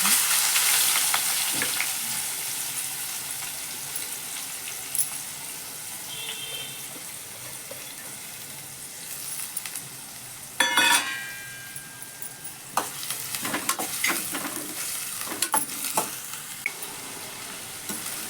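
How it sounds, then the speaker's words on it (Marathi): Chopped onion sizzles in a pan with a little asafoetida, being browned until reddish, with occasional scrapes and clinks as it is stirred. The frying stays steady and close, with no talking. "कांदा छान परतून घ्यायचा आहे. छान लाल करून घ्यायचा."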